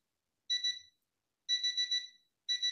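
A hotel alarm rings in three clear bursts of rapid, high electronic beeping, each burst a few pulses long and separated by short silences, loud and alone with no voices.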